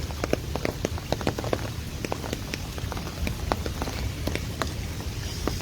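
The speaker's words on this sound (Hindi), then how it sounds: "ये जी लाहौर में बारिश हो रही है" Rain falls in Model Town, Lahore, a dense patter of drops striking hard surfaces nearby with a close, irregular ticking over a steady wash.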